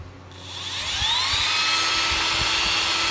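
Milwaukee M12 cordless drill with electronic speed control spins up, its whine climbing in pitch before settling into a steady, high, close-up motor scream with faint clicks underneath.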